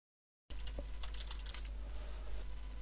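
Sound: typing a root password on a computer keyboard

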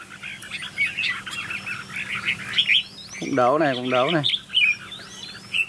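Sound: decoy songbirds chirping during a bird-fighting trial

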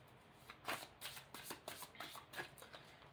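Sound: tarot cards being shuffled

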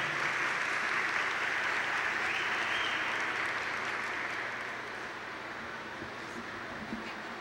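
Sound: audience applause at a graduation ceremony

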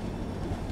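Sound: Jaipur Junction Jodhpur Intercity Express train

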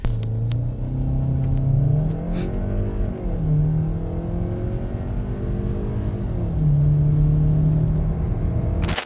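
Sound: Skoda Kodiaq Sportline engine accelerating with launch control

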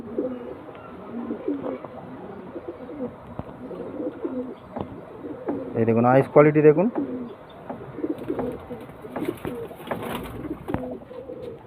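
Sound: pigeons cooing

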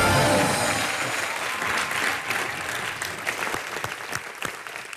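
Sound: audience applause

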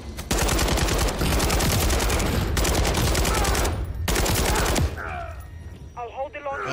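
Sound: RPK machine gun fire in Call of Duty Modern Warfare 3 video game

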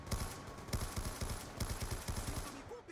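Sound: light machine gun firing in a video game

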